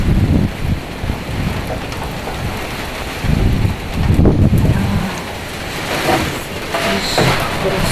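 Heavy wind-driven rain lashing down during a storm in Kharkiv, strong enough to blow in through an open door, making a loud steady roar that swells with gusts.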